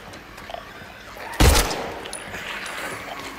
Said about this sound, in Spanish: no he probado dispararles en la cabeza